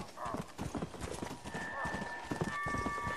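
Horse hooves galloping in the zombie western game Red Dead Redemption: Undead Nightmare, a quick, steady clip-clop that runs the whole way through, with someone talking over it.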